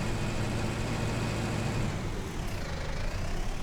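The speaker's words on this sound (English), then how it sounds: "But yeah, this tractor is pretty good." Tractor engine idling in Farming Simulator 19, a steady low rumbling drone with constant loudness throughout, close and alone.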